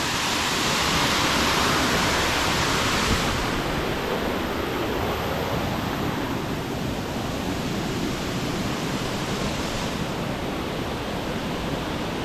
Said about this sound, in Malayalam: ഇതാണ് കേട്ടോ ഇവിടുത്തെ വെള്ളച്ചാട്ടം.